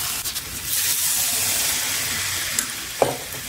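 Cashew rempeyek batter sizzles loudly in hot oil inside a frying mould, a dense steady crackle and hiss with a couple of brief stirring knocks near the end.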